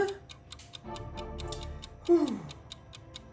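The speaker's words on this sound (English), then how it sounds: "Tick-tock, tick-tock, tick-tock, tick-tock, clock." A clock ticks in an even, steady rhythm throughout, with kitchen sounds beneath it and a short, louder sliding tone partway through.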